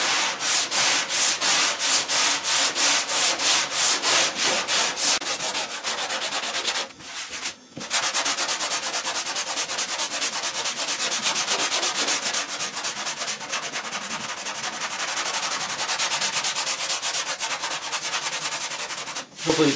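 A hand sanding block works across body filler on a car body panel, a loud, continuous rhythmic scraping of back-and-forth strokes, with one short pause midway.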